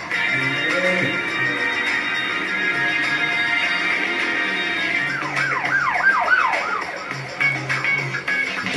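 Police siren effect inside a retro 80s-style pop song, a wailing siren tone that rises and falls and gives way to quick sweeping whoops over the music, loud and prominent.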